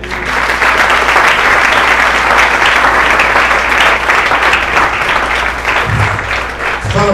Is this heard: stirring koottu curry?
no